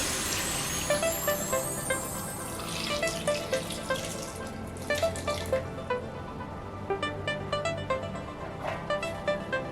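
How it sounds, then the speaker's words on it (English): Water running and splashing steadily into a cooking pot of cocoyam for Nigerian oha soup, with small metallic clinks and drips over a constant background hiss. "Now we're going to top water to the level of the cocoyam."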